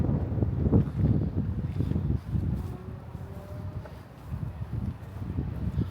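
Wind gusting outdoors on a warm day at an abandoned cotton gin in Mooresville, buffeting the microphone in uneven low rumbling surges that rise and fade over several seconds, with no talking.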